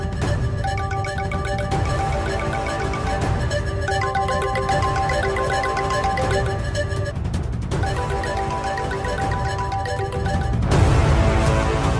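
A mobile phone ringtone plays loudly and steadily as a repeating melodic tone pattern, alone with no talk, ending in a brief louder burst of noise.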